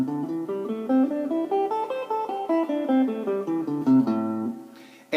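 Pentatonic scale picked on a guitar, single notes stepping up and then back down at an even pace, clear and up close with no voice.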